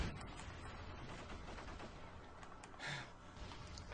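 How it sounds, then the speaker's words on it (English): Dual Skorpion submachine guns fired akimbo in a shooter video game: dense, continuous bursts of rapid gunfire fill the whole stretch at a steady, close, loud level, with a slightly heavier burst near the end. "My favorite gun in the game is now changed from the USAS to the Scorpion AKIMBOs."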